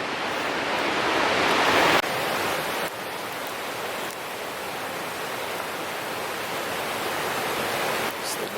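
A waterfall pours near a backcountry campsite under big trees in Sequoia and Kings Canyon, a constant broadband rush of falling water heard steadily from nearby with no voices.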